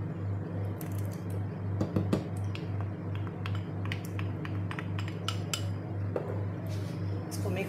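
A spoon stirs desi ghee through sheer khurma in a pot, giving repeated light metallic clinks and scrapes against the vessel over a steady low hum, close and moderately loud.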